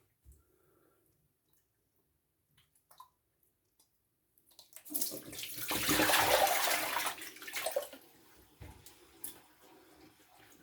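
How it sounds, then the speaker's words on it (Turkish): Hot water running from a tap over a brush being washed, a steady splashing rush that starts after a quiet stretch and then tapers into drips and light handling sounds. "fırçamı yıkıyorum."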